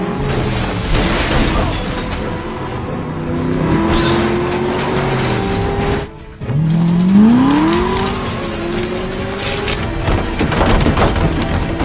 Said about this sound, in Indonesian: Ray pun mengejarnya dengan menggunakan mobil Chevrolet Camaro milik si wali kota